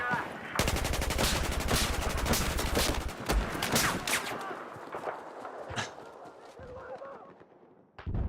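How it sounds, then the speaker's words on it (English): Rapid, sustained machine gun fire from the Battlefield 4 video game rattles loudly in dense bursts, mixed with other gunfire and explosions, then thins into scattered shots and battle noise. "Enemy machine gunner. Due east of where you're at."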